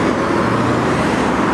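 Steady road traffic on an uphill town road in Macclesfield roars nearby, a dense wash of engine and tyre noise from passing cars with no talking.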